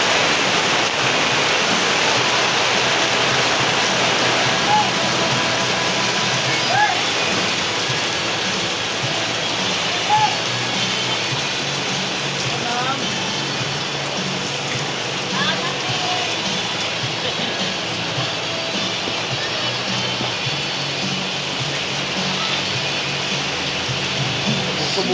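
A long stretch of steady, heavy monsoon rainfall in the Philippines, a broad continuous hiss with occasional drips and faint background sounds mixed in.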